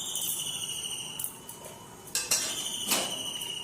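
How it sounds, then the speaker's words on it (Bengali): A metal spatula stirs hot oil in a kadai before fish goes in to fry, giving a few scattered scrapes and clinks over a steady high background whine. "তেলটাকে ভালো করে গরম করে একবার নাড়িয়ে নিলাম"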